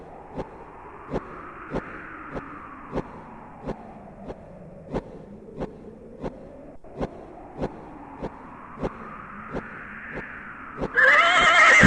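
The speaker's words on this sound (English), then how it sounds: "You slip the bridle over the horse's head. It whinnies its approval." A horse neighs in a long, wavering whinny, rising and falling over several seconds, set against a steady rhythm of evenly spaced clip-clop hoof beats, with a louder noisy burst at the very end.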